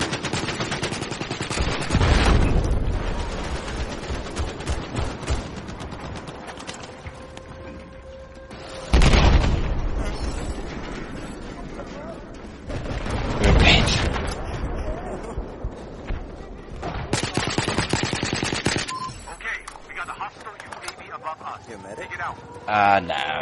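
Video game gunfire comes in loud, rapid bursts of automatic shots separated by pauses, with heavier booming volleys and voices talking underneath.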